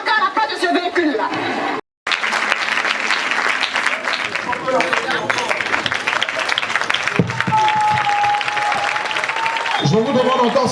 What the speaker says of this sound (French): Je vous demande encore, s'il vous plaît, de l'applaudir et d'applaudir toutes ces battantes